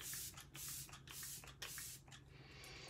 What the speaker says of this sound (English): It's the setting spray.